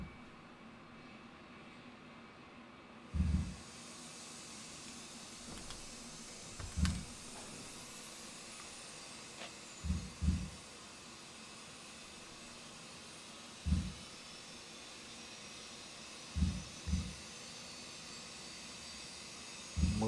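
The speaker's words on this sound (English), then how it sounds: "Okay, start engine number 2." In a flight simulator game, jet engine number two spools up from rest into a steady, rising background roar, with faint clicks and thumps scattered over it.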